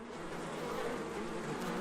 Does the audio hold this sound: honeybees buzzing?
yes